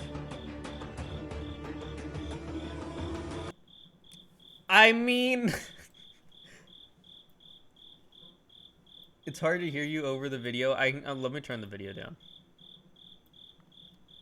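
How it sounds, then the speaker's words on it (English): A cricket chirps in a steady series of high, evenly spaced pulses running through the whole stretch, faint beneath a voice, bursts of clip dialogue and background music. "There's a cricket."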